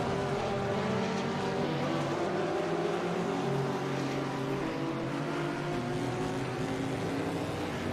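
Race cars at the 2022 Rolex 24 at Daytona endurance race roar past in a continuous layered engine drone with gently shifting pitch, steady and somewhat distant, with no voices.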